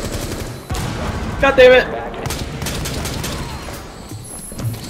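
Gunfire in Rainbow Six Siege during a Terrorist Hunt bomb-disarm mission at Hereford Base: sustained automatic weapon fire with bursts and a louder blast near the middle, and a man swearing over it.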